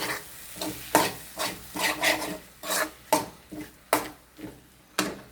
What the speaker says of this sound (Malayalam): ഇനി ഇത് നമുക്ക് ശരിക്കും ഇളക്കാം.